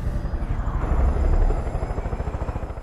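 Helicopter in the video game Far Cry 5, a steady rhythmic rotor thumping that swells louder around the middle and then continues in a regular pulsing beat, with no talk over it.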